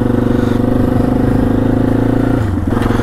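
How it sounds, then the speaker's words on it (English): A new dual sport motorcycle idles and pulls off with a steady, loud engine drone and a rhythmic throbbing exhaust, close up, dipping briefly near the end before holding again. "we are off on an adventure on the new bike"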